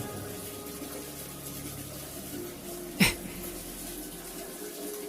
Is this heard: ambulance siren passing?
no